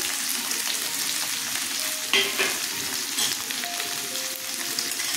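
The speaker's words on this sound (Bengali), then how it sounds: "পেঁয়াজগুলো দেখুন আমি এইভাবে তেলে দিলাম" Steady crackling sizzle of onions frying in hot oil, with a couple of brief clinks partway through.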